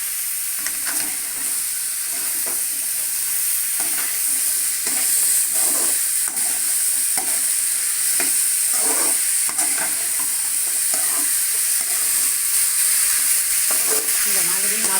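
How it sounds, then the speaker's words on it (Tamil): Pumpkin masala stir-fry being stirred in a pan with salt added, a steady sizzle and hiss with repeated scraping stir strokes, close and continuous. "உப்பு சேர்த்துட்டு நல்லா கிளறி விட்டுருங்க."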